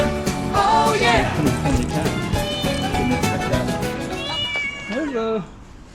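Cats in a Wuhan alley near Jianghan Pedestrian Walking Street meow repeatedly and loudly, close by and overlapping one another, with a final drawn-out meow before sudden quiet.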